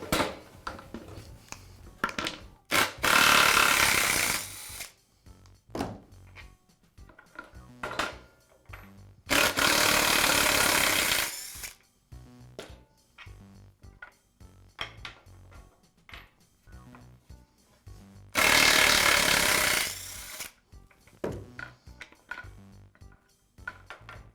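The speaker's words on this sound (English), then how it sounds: "I'll remove the bolt that secures the bracket on each of the removable jaws." A bolt comes off the jaw bracket of a Black and Decker Workmate bench. Three loud sustained tool bursts are separated by quieter clicks and handling noises, all close.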